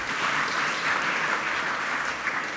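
A conference audience gives steady applause, a dense, even wash of clapping from many hands that holds throughout without a break.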